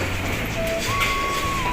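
Train noise at a railway station in Romania: a steady rumbling rolling wash with a faint high tone drifting above, continuous and fairly loud throughout, with no talk.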